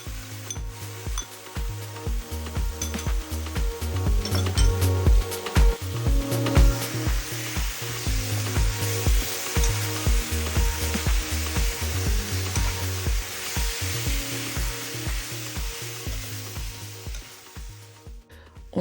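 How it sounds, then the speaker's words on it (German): Barbecue sauce sizzles steadily in a hot frying pan, loud and close, with occasional stirring scrapes and clatter, continuing without pause and no voices. "dann kommt die Barbecue-Soße in die Pfanne"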